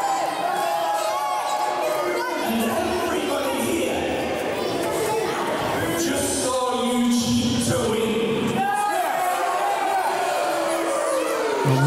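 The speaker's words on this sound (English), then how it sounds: "The crowd there letting their feelings known towards Shane Manson." Wrestling crowd at a Fight Factory show voicing its feelings toward Shane Manson, a loud, continuous wash of shouting, whoops and chatter with talk mixed in throughout.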